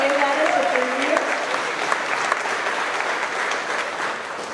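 Audience applause fills a company monthly celebration at Melton Truck Lines, a steady dense clapping that runs throughout, with a brief voice heard over the start.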